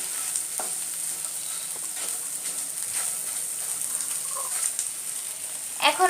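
Boiled potato is stirred with spices in a pan while making potol dorma, an egg and pointed gourd dish, a soft steady sizzle broken by light scraping and stirring strokes and a brief clatter near the end, with no talk.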